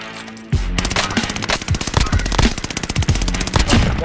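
Rapid automatic gunfire with incendiary ammo in the video game Warzone, a loud sustained burst of closely spaced shots beginning after a brief quiet start.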